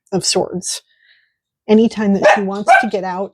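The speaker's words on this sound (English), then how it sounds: "Sorry about my dog. She has been very barky this weekend." A dog barks in quick sharp bursts indoors, mixed in with someone talking nearby; the barks and speech overlap over a few seconds.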